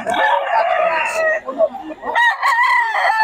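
A Gilmore Hatch gamefowl rooster crows loudly and close by, one long drawn-out call followed by a second crow after a short break.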